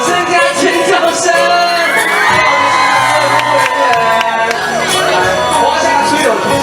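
A large outdoor concert crowd at a temple anniversary festival in Taoyuan cheers, screams and whoops loudly and continuously, with high shrieks over a dense roar.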